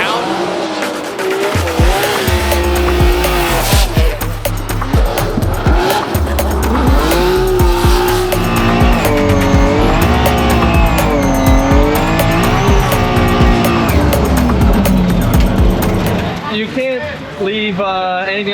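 At a Formula Drift event in Orlando, a Nismo all-new Nissan Z and a chasing car drift in tandem through a banked corner, tires squealing and engines screaming continuously and loud, under an excited commentator's voice.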